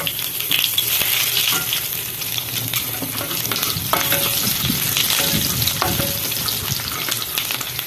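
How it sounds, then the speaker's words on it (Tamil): Mustard seeds spluttering with garlic frying in hot oil for brinjal kuzhambu, a loud, dense sizzle with crackling pops and stirring scrapes running steadily the whole time. "இப்போ பூண்டு போட்டுறாங்க கடுகு வச்சிருச்சு"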